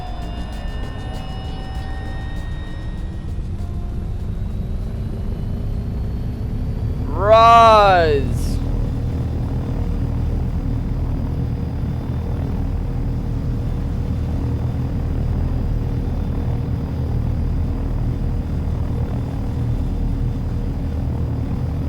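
A helicopter flies in DayZ, its steady loud low rotor and engine rumble running throughout, with a brief rising whine partway through. A voice speaks briefly.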